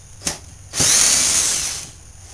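A power drill whirs in one sustained burst of about a second, preceded by a couple of short clicks, then stops, leaving quiet.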